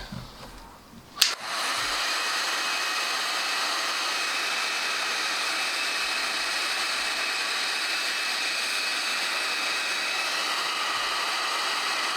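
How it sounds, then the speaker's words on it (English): Heat gun set near high blasts a steady, loud airy roar for about ten seconds after a brief click as it switches on, held close during a guitar pickup wiring job. "We've got the heat gun. Put it close to high."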